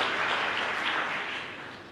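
Applause from a church congregation during a youth sermon, a dense, steady wash of many hands clapping at moderate distance that slowly fades toward the end, with no talking.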